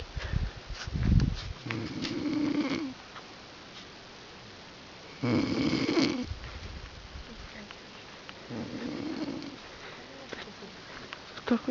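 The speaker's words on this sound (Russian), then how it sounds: "они друг друга перехрапывают" Snoring from people asleep in tents at a camp at night, several rough low rasping snores in slow alternating rhythm with quiet gaps between, moderately close, with a faint voice murmuring.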